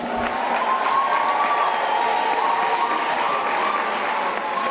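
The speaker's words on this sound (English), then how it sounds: "They deserve a round of applause." Sustained applause from a large graduation ceremony audience, a dense, steady wash of clapping with some cheering mixed in, holding at an even loudness throughout.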